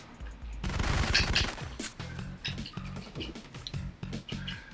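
Rapid bursts of submachine gun fire from Biz-2 weapons in the Syphon Filter video game, with repeated staccato volleys coming close and loud over a few seconds and no voices.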